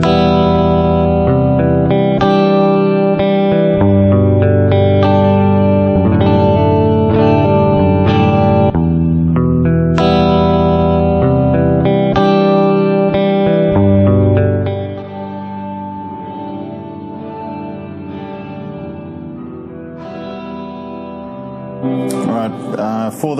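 A looped electric guitar phrase runs through reverb on a Boss GT-1000 multi-effects pedal, loud and sustained with washy tails, thinning after the midpoint as the loop drops in level, with a brief glitchy burst at the end.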